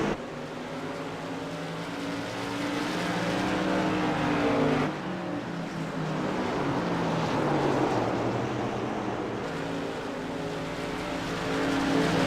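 SK Modified race car engines drone steadily at New Smyrna in the iRacing video game, a loud sustained layered engine roar with cars running side by side and shifting pitch throughout.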